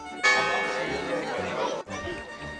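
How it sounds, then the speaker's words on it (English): A church bell gongs once to mark the quarter hour in a small, charming church in Bratislava, a single sustained ringing tone that decays over a couple of seconds while people chatter nearby. "Every 15 minutes there's a gong."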